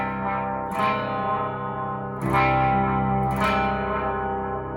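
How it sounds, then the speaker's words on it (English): Electric guitar through a Westminster Effects 1689 Overdrive V2 on a sparkly clean channel with tape echo, three strummed chords each ringing out with repeating echoes and a steady, full sustain, played alone. "Got a little tape echo."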